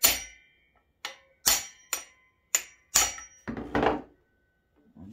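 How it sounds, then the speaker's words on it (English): An impact driver working to loosen a bolt on a Yamaha Enticer 340 engine during teardown, delivering about seven sharp, ringing metallic strikes at irregular intervals, close and clear with quiet gaps between. "couldn't get very square on that with the impact driver"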